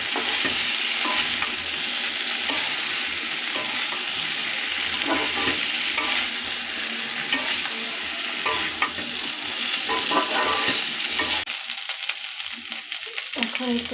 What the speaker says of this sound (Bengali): এখন আমার ভেজে রাখা ফুলকপি আলুগুলো এতে দিয়ে দেব। এগুলোকে এখন ভালো করে মিশিয়ে নেব।